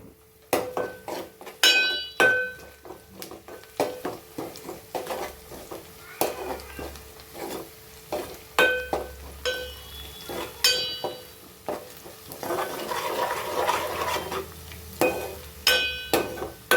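Onions, green chillies and turmeric frying in a pan for a Hyderabadi pumpkin masala curry, with a utensil repeatedly scraping and clinking against the pan over a soft, steady sizzle, close up and with no talking.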